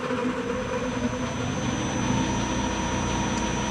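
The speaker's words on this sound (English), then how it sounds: "Running the lathe right at 600 RPM, probably a little slow" A metal lathe runs steadily at 600 RPM during threading work, making a constant mechanical hum with a faint high whine held throughout, close and without speech.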